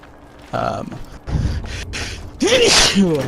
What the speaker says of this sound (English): Easy sneeze right there.